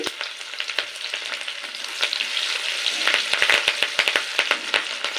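Chopped garlic, ginger and green chili frying in oil for chilli chicken, a bright close sizzle with sharp crackling pops that grow denser in the second half, no voices.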